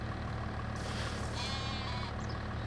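Sheep bleat in the farming video game Farming Simulator 25, with a clear drawn-out bleat rising midway over a constant backdrop of game ambience and low machinery hum.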